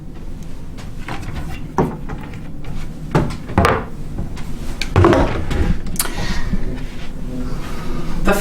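A cabinet door in a cruise ship balcony cabin on the NCL Getaway is opened and handled, with several close wooden knocks and clunks over steady room noise.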